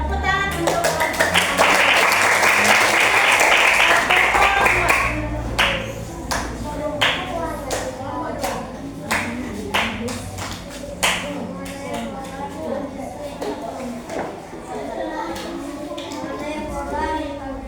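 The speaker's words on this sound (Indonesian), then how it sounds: "Tepuk tangan untuk kelompok." A class claps together for a student group, a dense burst of applause lasting several seconds before it thins into scattered taps and claps, with voices talking over it afterward.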